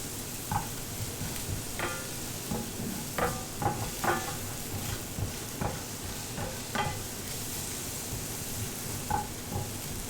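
Garlic frying in a pan, a steady close sizzle with scattered crackles and pops and occasional stirring scrapes throughout, no talking.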